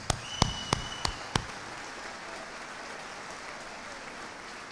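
At a graduation ceremony, five sharp, distinct hand claps ring out close by in an uneven rhythm during the first second or so, then fade into quiet room hiss.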